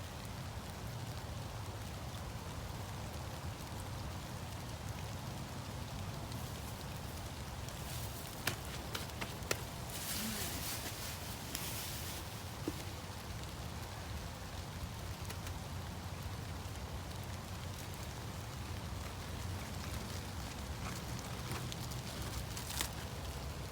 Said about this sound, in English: And of course we're in the rain again.